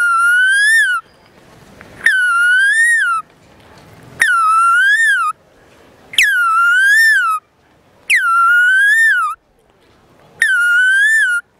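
A human voice imitates the Asian koel's call: six loud, close, whistled phrases, each rising then falling, repeated about every two seconds with short pauses between, and no talking.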